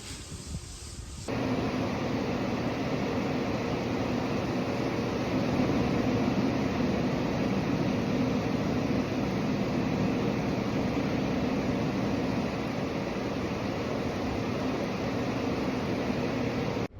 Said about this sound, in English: we put this fan on it before we test it